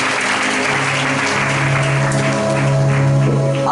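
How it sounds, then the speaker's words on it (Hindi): A church congregation claps hands together in a loud, dense, continuous burst of applause with a low hum underneath. "ताली बजा दो अपने हाथों से।"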